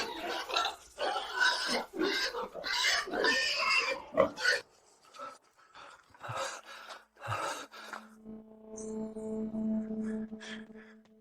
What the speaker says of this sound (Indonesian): Makanan babi, seekor babi.